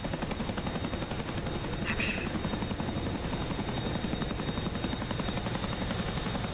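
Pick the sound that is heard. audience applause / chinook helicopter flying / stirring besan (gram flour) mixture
chinook helicopter flying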